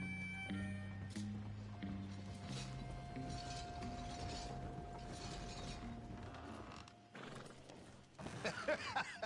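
Horse hooves clip-clop at a walk in the Red Dead Redemption 2 video game, quiet steady steps mixed with soft tones and small mechanical clicks, faint background sounds throughout.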